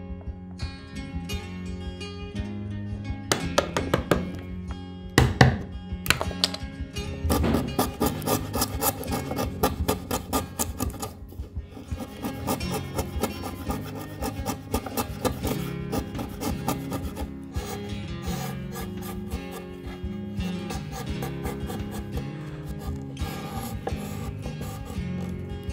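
Hand saw or rasp working wood, cutting a wooden tenon for a threshold joined to a pillar in Japanese woodworking, a close, loud, steady run of rhythmic rasping strokes that continues throughout.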